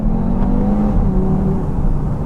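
A 2021 Audi TT RS accelerating, a steady loud engine drone with rising tonal harmonics heard from inside, close and continuous with no talk.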